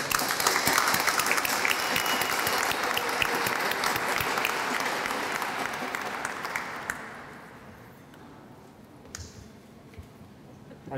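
Dense audience applause welcomes honorees on stage at a Hispanic Heritage Month closing ceremony, sustained and full at first, then gradually thinning and fading toward the end.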